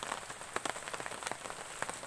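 At the start of the rainy season, driven by a low pressure area over Luzon, rain falls in a dense steady patter with sharp, close drops hitting a surface, heard without any voices.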